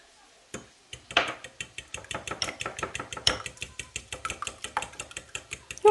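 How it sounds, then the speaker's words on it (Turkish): Three eggs beaten briskly in a bowl, a steady run of quick, sharp clinks of a fork or whisk against the side, close and clear, with no talk over it. "3 tane yumurtayı güzelce çırpıyorum"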